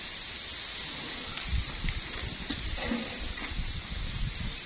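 Steady broadband wind noise blowing throughout, with faint rustling and low gusty rumbles, no voices.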